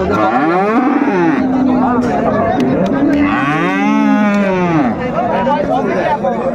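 Dairy cow and calf at a busy village cattle market in Dinajpur, loud drawn-out moos rising and falling over constant crowd chatter and nearby voices.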